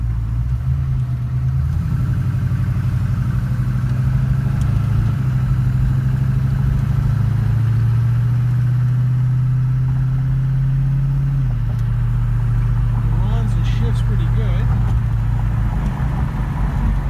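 A 1968 Ford Mustang GT V8 fitted with an EZ EFI fuel injection system runs at a steady, loud idle with a low continuous rumble and a slight pitch shift midway, with no talking.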